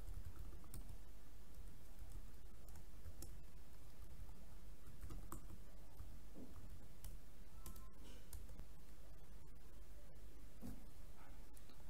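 Soft, steady keystrokes on a computer keyboard while someone logs into a web platform, a busy stream of small clicks and taps running throughout at a quiet level with no talking.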